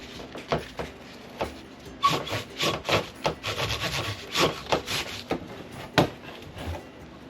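Hand sanding on the metal hood hinges of a 1987 Jeep Wrangler being restored: a steady series of close, rhythmic rasping strokes, some rising in pitch with a faintly musical ring, with no talking.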